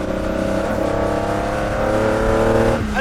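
A Ferrari 250 Testa Rossa race car drives with a loud, steady engine drone and rich harmonic tone, pitch holding level and then dipping slightly near the end, close and alone.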